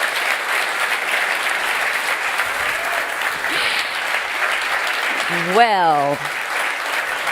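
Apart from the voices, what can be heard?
audience applause for the F1 drivers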